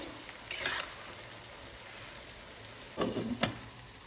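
A spoon stirs pulao with sugar in a pan, making two short bursts of scraping and clinking against a quiet, low sizzle, close and otherwise calm, with no voices.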